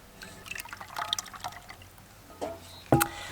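Soap oils pour into a lye mixture for spearmint aloe soap, a soft, close trickle with scattered drips that ends in a sharper splash near the finish.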